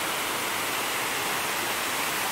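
Rushing water in Moccasin Creek near the falls on a forest hike, a loud, dense broadband roar that stays steady and close, with no other sounds audible.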